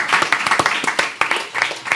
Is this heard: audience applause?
yes